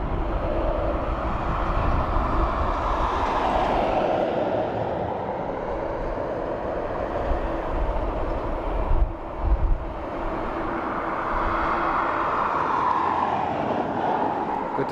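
An Airbus A330 bound for New York departs Dublin Airport, its engines making a continuous heavy roar with slowly sweeping whining tones that rise and fall, fairly near and loud, with a brief dip partway through.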